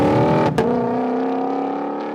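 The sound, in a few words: Ford Mustang GTD engine and gear changes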